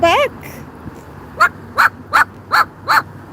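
A Moluccan cockatoo mimics a dog's bark: a series of five short, sharp yapping calls in a steady rhythm after a brief squawk, close and loud.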